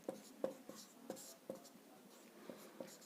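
Chalk or marker writing on a classroom board, with a steady series of short scratchy taps and strokes at an even pace, close and fairly quiet, and no talking.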